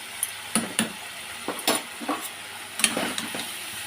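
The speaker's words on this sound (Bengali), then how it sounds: "ভালো করে একটু কষিয়ে নেবো দেখো বড় চামচের এক চামচ আমি ঘি দিলাম" Chicken sizzles in ghee in a pan while a spoon stirs it, with a soft frying hiss broken by several sharp scraping and clinking strokes of the spoon against the pan.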